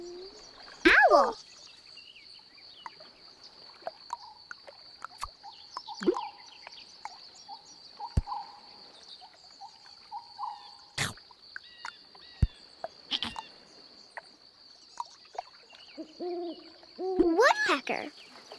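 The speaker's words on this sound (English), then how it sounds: "Owl." A cartoon owl from the Sago Mini forest animals kids' game hoots near the start, followed by sparse game clicks and effects over a steady high electronic tone, with a further short animal call near the end.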